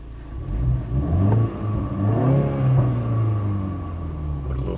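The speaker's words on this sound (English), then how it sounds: "And this sport mode also deepens the exhaust," A 2019 BMW 330i in sport mode revs its engine, the exhaust note rising and falling in a couple of deep, rumbling swells heard up close, with no talking over it.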